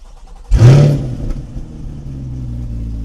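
A 2023 Chevrolet Corvette C8 with performance exhaust starts remotely: a sudden loud, near crank-and-flare bark that swells and then settles into a steady, rumbling idle.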